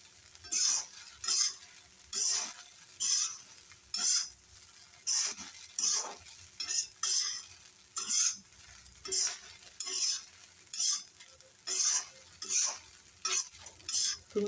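Sabudana khichdi is stir-fried in a pan with a quick, regular run of scraping strokes over a soft sizzle. Each spatula pass stands out clearly from the next, and no one speaks.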